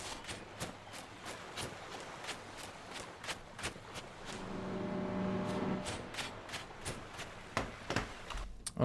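Footsteps in a video game scene set in and around a hut, reverb applied to them, a steady run of sharp close ticks with a brief low hum in the middle.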